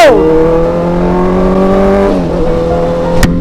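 Big sport motorcycle engine revving up, holding a steady high drone, then dropping in pitch briefly before settling again, loud and close throughout.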